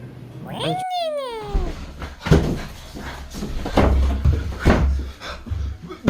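A cat gives one clear, rising-and-falling meow near the start, followed by bumping and rustling handling noises and some indistinct voices.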